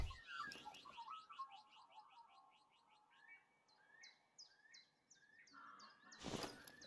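Small birds chirp and whistle in a hunting video game, series of quick rising and falling notes repeating in bursts over a quiet background, fairly faint, with a couple of brief thumps at start and end.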